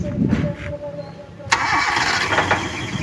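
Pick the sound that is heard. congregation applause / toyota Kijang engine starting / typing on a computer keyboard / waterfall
toyota Kijang engine starting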